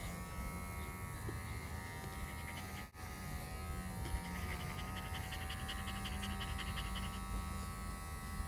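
Electric dog grooming clippers buzz steadily and loudly throughout at close range, with a dog's panting breaths mixed in underneath the motor drone.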